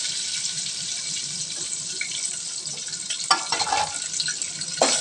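Garlic frying in oil for sambar, a steady soft hiss and crackle with a few sharper stirring clinks near the end, no voices.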